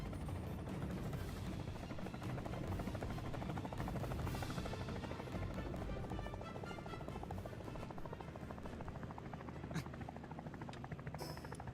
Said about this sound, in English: I can still hear the helicopter, too.